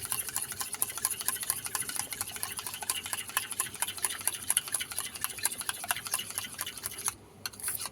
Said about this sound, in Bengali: ভালো করে টক দইটাকে ফেটিয়ে নিতে হবে।